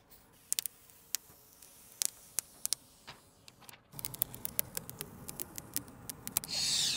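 Small plastic clicks and ticks come as a tube holding vehicle screen protectors is handled and opened close up, scattered sharp taps followed by denser rustling and a soft scraping swish at the end.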